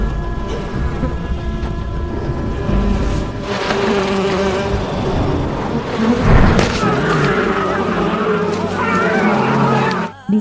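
A swarm of wasps buzzes loudly and continuously from a wasp nest hurled from a leaf roll toward a group of men in a jungle, mixed with dense film score and rumbling impacts throughout.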